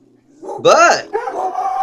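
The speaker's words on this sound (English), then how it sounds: "I think I hear the dogs barking" A dog lets out a loud, close bark that rises into a yelping howl, followed by a second drawn-out whine.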